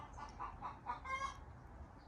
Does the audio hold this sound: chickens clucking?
yes